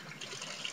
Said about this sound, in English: Run hand under cold water.